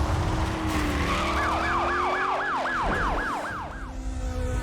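A police car's wailing siren sweeps up and down in rapid cycles during a pursuit in the racing game Need For Speed The Run, loud over engine roar and tire noise.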